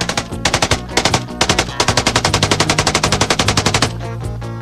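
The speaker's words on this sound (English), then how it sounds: "The 1917 water-cooled machine gun." A 1917 water-cooled machine gun fires loud, rapid bursts of evenly spaced shots, first in short strings and then a long sustained run before stopping, followed by a ringing echo.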